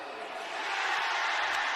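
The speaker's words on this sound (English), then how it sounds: "I'm just going to be quiet and let you listen to this crowd" A crowd cheers at a swimming meet final around a pool, a faint, steady wash of roaring voices that swells slightly, heard from a distance with no clear talk.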